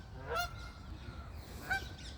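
Two honks from Canada geese at a rainy park lake, roughly a second and a half apart, fairly faint and slightly distant over a soft background hiss.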